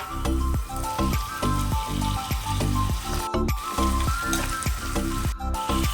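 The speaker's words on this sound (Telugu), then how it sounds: "ఉల్లిపాయలు కొంచెం వేగిన తర్వాత వన్ స్పూన్ అల్లం వెల్లుల్లి పేస్ట్ వేసుకుందాం ఇప్పుడు టమాటాలు వేసుకుందాం" Tomatoes go into a pan of onions and ginger-garlic paste frying for cluster bean kurma, giving a loud, continuous sizzle over a rhythmic, pulsing background beat.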